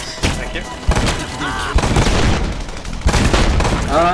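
Rapid gunfire from the video game Narco Terror crackles in dense bursts with heavy booms, loud and close, while players talk over the action.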